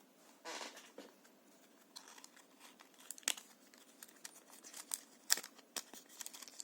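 Cellophane bag and sticky tape wrapped around a Japanese-made KOYO 6303-2RSC3 alternator bearing crinkle and rustle in faint, irregular bursts close by, with a few sharper crackles and no talking.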